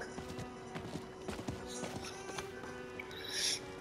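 Horse hooves clip-clopping in Diablo IV, a quick irregular run of light hoof taps close up, with a brief brighter chime near the end.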